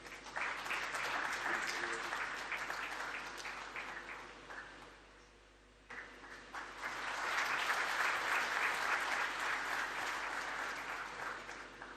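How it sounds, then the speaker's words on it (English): An audience at a general assembly applauds loudly, and the clapping dips briefly into a near-quiet gap midway before swelling back to full strength, with some talk mixed in. "Can we clap hands again?"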